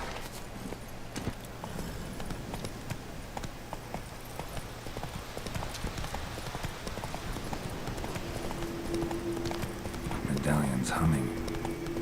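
Horse hooves clip-clop steadily across the ground in the open-world game The Witcher 3, a regular walking rhythm that continues under a voice throughout.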